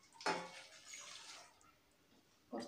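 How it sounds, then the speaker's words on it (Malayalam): Boiling water is poured into a pan of Chinese potato pickle: a close, hissing splash lasting about a second that fades out, then a brief second splash at the end. "ഇതിലേക്ക് ഞാൻ തിളച്ച വെള്ളം കുറച്ചൊഴിക്കുകയാണ്"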